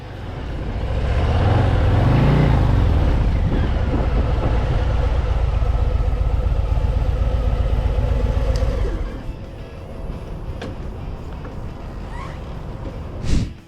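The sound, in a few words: Harley-Davidson Low Rider ST 117 cubic inch engine running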